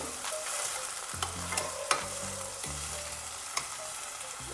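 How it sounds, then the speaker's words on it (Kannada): Tomatoes go into frying onions in a pan for shahi paneer masala, a steady close sizzle with soft stirring scrapes and a few small knocks, no talking. "ಈಗ ಟೊಮೆಟೊ ಹಾಕೋಣ ಉಳ್ಳಾಗಡ್ಡಿ ಫ್ರೈ ಆಗೈತಿ"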